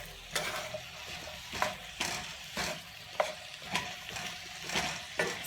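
Sweet potatoes and onions fry in a pan for a sweet potato hash, a steady sizzle punctuated by regular, fairly close stirring scrapes roughly every half second.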